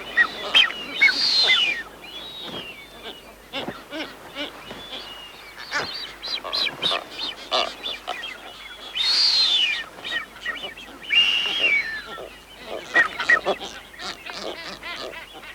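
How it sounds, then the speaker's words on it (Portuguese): Blue-footed boobies call during courtship on a remote island shore, a string of loud, close, honking and whistling cries repeating in bursts with short gaps. "No lado mais remoto da ilha, outras aves marinhas, alcatrazes de patas azuis, também se ocupam do jogo do acasalamento."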